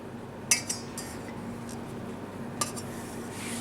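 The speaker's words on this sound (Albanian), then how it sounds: "me ndihmën e pirunit do ta kalojmë pirunin mbi sipërfaqen e tij, jo shumë fort, por në mënyrë të lehtë" A fork drawn lightly over kulaç dough in a baking tray, giving a couple of faint clinking scrapes near the start and another later, quiet against a steady low room hum with no talk.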